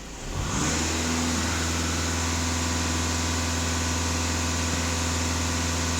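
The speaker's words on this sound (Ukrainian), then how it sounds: "Фіксую дані, даю обертів." A VW Passat B8 engine, in a workshop during EGR and emissions-system cleaning, starts from idle and is revved up, then holds at a steady, raised speed with a loud, even drone close by.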